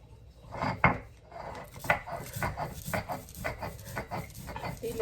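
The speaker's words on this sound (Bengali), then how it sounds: "এখানে আমি আমার পাটা তো ছোটো অল্প করে বাটি আগে" Dried fish paste is ground on a small stone pata, with rhythmic scraping and knocking strokes of stone on stone repeating close up, one sharp clack standing out early on.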